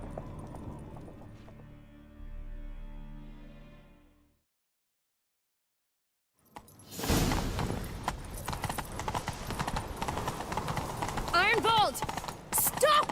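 Rhythmic hoofbeats of a galloping horse in The Witcher 3 video game pound close by after a brief silence, with talking over the top in the first few seconds.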